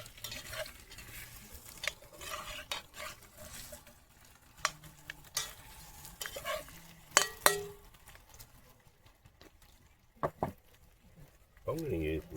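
A cinnamon mixture stirred in a hot cast iron camp oven, scraping and sizzling with occasional metallic clinks of utensil on pot, while a person talks intermittently over it.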